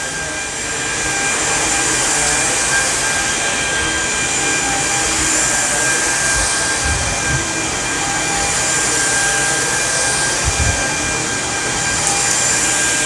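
A Dyson DC33 upright corded vacuum cleaner runs loud and steady as it picks up sand from carpet, a constant close motor roar and whine with no talking.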